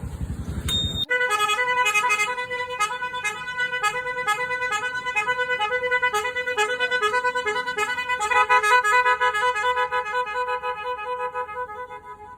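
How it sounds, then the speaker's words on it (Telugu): A loud Chinese-made multi-tone electric horn plays a rapid repeating sequence of shifting tones, blaring continuously and close by after a brief engine rumble at the start. "ఇది చైనా హారన్ స్కోడా టైప్లో వస్తాయి. మల్టీ సౌండ్స్ ఉంటాయి దీంట్లో, 22 వేరియంట్స్."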